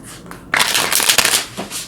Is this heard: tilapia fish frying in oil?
no